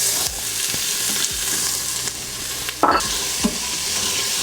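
Onions sizzle steadily in about two tablespoons of olive oil in a pan, a close, continuous frying hiss with occasional stirring scrapes and utensil knocks, no talking.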